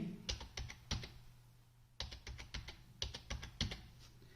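Keys tapped on a computer keyboard while entering data into an Excel spreadsheet, in quick bursts of clicky strokes separated by a short pause, close and clear with no talking.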